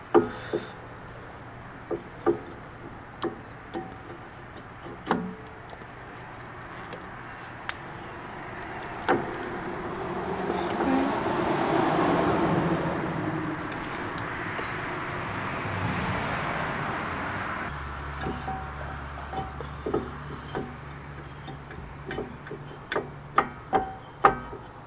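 Brake pads are fitted on a ZL1 Camaro, with a scattering of sharp metallic ticks and clicks at irregular intervals around a stretch of broader shuffling, handling noise in the middle, close and moderately quiet with no talking.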